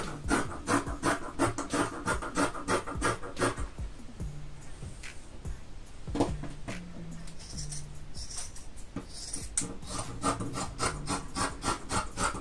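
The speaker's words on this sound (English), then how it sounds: "I just need to cut off this bit of fabric where it's been glued" Scissors cut through fabric trimmed from the glued end of a roll, a rapid series of close, crisp snips and rasping rubs running steadily throughout, with no talking.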